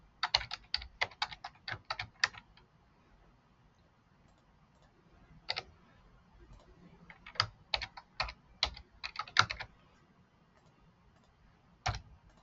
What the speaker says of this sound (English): I'm going to just type quickly and not talk so you can see how fast it really is